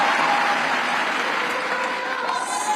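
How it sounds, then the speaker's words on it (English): A large political rally crowd claps and applauds, dense continuous applause close and loud that holds steady for the whole stretch, with no clear speech over it. "going fucking mental with the clapping."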